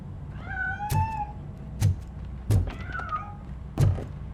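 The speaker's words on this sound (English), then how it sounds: "That cat must be hiding inside." A cat in Robocop: Rogue City meows twice with drawn-out, wavering cries, mixed with four hard thumps like knocks on a door, all fairly close and loud.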